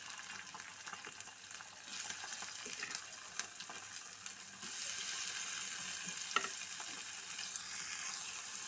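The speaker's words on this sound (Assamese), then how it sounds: "তেল গৰম হৈছে, মই মাছখিনি দিছোঁ" Small misa prawns fry in hot mustard oil in a kadai with a steady, close sizzle that grows louder partway through, with occasional stirring scrapes.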